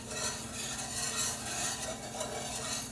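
A roux being stirred with a spatula in a pan on a turned-down stove, a continuous close scraping and soft sizzling with an even, unbroken texture and no voices.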